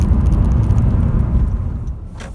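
A 2016 Honda Civic Si diesel drives along a road, giving a steady, loud low engine and road rumble that eases slightly toward the end.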